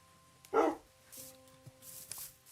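A Minecraft wolf gives a single short, clear bark at close range, with a low background hum and faint rhythmic scraping steps around it.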